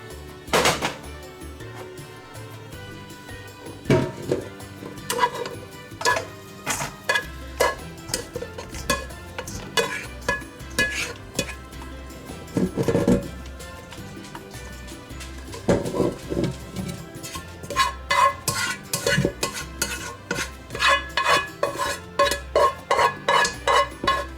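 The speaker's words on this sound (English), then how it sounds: "Now we're going to drain our ground meat. We want to get all that grease off of it." Ground meat cooked in a home kitchen pot being drained of grease, heard as repeated metallic clanks and scrapes of the pot and utensils, irregular bursts that come close and fairly loud, with no talking.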